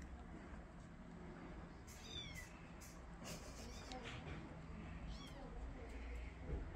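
Three small abandoned kittens meow in short, high, rising calls, a few at a time, over a low background hum, fairly close but faint.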